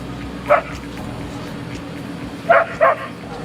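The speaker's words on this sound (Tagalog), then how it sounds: "tumayo at tumatahol na siya" A dog barks once, then twice more in quick succession a couple of seconds later, sharp and fairly close over a low background hum.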